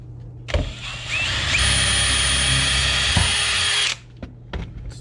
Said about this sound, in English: We should pre-drill, shouldn't we?